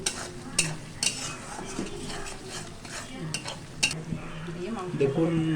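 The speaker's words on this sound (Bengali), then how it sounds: "তেল ছাড়া পর্যন্ত আমাদের কষাইতে হবে" Masala being stirred and fried in oil in a pot for a village-style country chicken curry, with repeated scraping strokes of a spoon over a steady sizzle, close and fairly loud.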